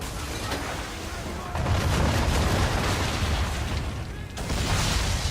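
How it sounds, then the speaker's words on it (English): Cannon fire at sea in Assassin's Creed 3 booms out as a heavy explosive rumble that swells loudly over a storm-noise background, with a second burst near the end. "Oh, cannon!"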